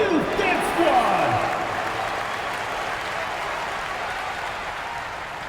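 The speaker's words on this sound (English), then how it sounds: "Fans, please give a big round of applause for fans, your youth dance squad!" Arena crowd applause in the NBA 2K26 basketball game, a broad wash of clapping and cheering that swells early and then holds steady, with a pitched sweep and announcer-style talk fading at the start.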